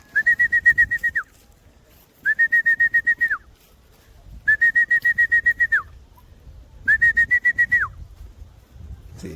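A person whistles to call chickens on a farm: four separate bursts of fast trilled whistling, each about a second long with pauses between, loud and close over faint background noise.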